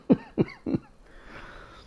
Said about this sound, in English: Wheezy cough.